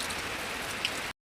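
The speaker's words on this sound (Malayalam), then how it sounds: "പുറത്താണെങ്കിൽ നല്ല മഴയാണ് പെയ്യുന്നത്" Heavy rain pours outside in a dense, even hiss, steady and fairly close for about a second before cutting off abruptly.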